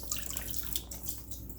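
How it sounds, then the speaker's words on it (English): Hot water runs steadily from a tap in a home with several floors, a continuous hissing splash that stays even and close for the whole stretch, with no voices over it. "Now we have hot water."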